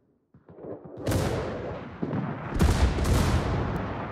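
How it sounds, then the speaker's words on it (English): Heavy naval guns from a warship in a clan battle of a naval combat video game, with a sharp report followed by rolling booms and dense rumbling salvos, loud and without talk. "Concentrate fire on that enemy warship."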